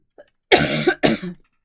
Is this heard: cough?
yes